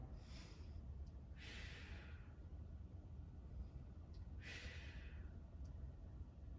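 Two slow, audible breaths, each a soft airy rush separated by a quiet pause, taken during a stretching session targeting the piriformis, close and unaccompanied by speech.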